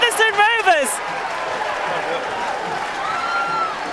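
A Featherstone Rovers rugby crowd roars and claps after a try under the posts, a steady wash of cheering and applause that runs the full length, with a commentator's voice briefly riding over the noise at the start.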